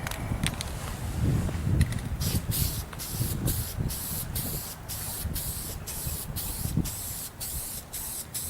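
Spray coating a car headlight lens during restoration, laid flat for thicker coats: repeated short hissing bursts of the spray can, close and fairly loud, with rustling and handling noise low underneath.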